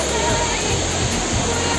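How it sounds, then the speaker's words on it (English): A waterfall in Shillong throws off heavy spray, and its steady, loud roar of rushing water fills the air up close without a break. "And that's the fall, man. And there's a lot of spray from the fall."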